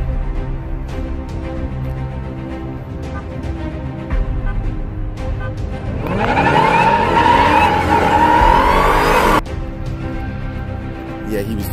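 A car spinning out on an airstrip, with a loud burst of tire squeal and engine roar rising midway and cutting off after a few seconds, over steady background engine rumble.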